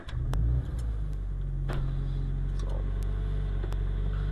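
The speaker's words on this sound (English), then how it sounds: "Cold start is very long." A Scion FR-S fitted with a TRD axle-back exhaust idles high during a cold start, a steady low droning rumble with a brief louder burst at the beginning.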